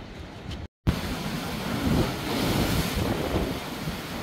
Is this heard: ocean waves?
yes